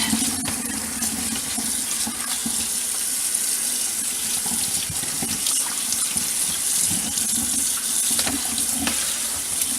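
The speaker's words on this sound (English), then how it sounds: "Nice cold water. Give this bad boy a good wash." Cold tap water runs over a cottage ham being rinsed in a sink, a steady loud splashing rush that shifts slightly as the ham is turned under the stream.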